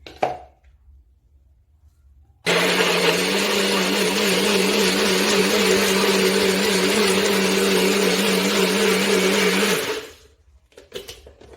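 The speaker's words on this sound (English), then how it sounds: "I hope my blender can handle the pressure from all these mangoes" A kitchen blender whirs loudly and steadily for about seven seconds as it purees mangoes, starting abruptly and winding down at the end, with quiet moments before and after.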